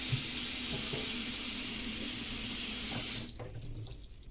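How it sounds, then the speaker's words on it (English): Hands washed under a running kitchen tap, a loud steady rush of water that stops abruptly near the end, leaving quiet room noise with a few small splashes. "Washing of hands is very important in this kitchen because we are trying to keep everything clean and neat."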